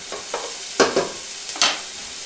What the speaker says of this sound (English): First we throw in some onions, cook up some onions